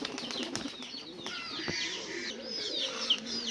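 Pigeons in a flying loft, with soft cooing and chirps mixed with brief wing flaps and rustling, close by and fairly steady throughout.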